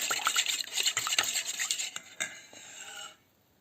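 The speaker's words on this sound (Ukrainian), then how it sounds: "Тепер одразу за кефіром відправляю соду, розмішую її ось так." A spoon clinks and scrapes rapidly around a container, stirring baking soda into kefir in a steady rhythm for about three seconds before stopping.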